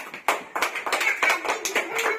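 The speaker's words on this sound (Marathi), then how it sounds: "टाळ्या वाजवा जोरात" A group of first-grade children claps for the winner of a classroom counting game, a short burst of quick, uneven hand claps close by.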